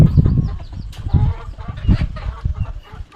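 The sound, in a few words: chickens in a coop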